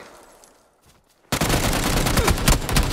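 Sustained burst of automatic gunfire in the battle royale video game PlayerUnknown's Battlegrounds, starting abruptly after a quiet stretch and continuing loud and rapid to the end.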